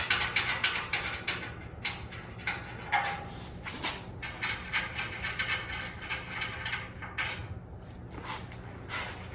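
A ratchet backs screws out of the shelf brackets on a Green Mountain Grills pellet grill during assembly, giving a steady, close run of rapid clicking that pauses briefly between strokes.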